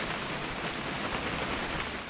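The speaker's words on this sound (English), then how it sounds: "It's gonna rain the whole weekend, isn't it?" Steady rain falls in the video game What Remains of Edith Finch, a dense, even patter on surfaces with scattered droplet ticks and no voices.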